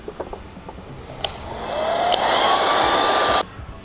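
Heat gun or hair dryer warming trim on a Harley Road Glide before prying: a steady broadband blowing roar rises from about 1.5 s, holds loud with a faint whine, then cuts off sharply near 3.4 s, with small clicks before it.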